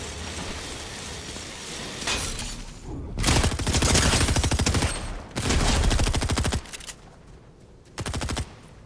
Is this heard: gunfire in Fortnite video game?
yes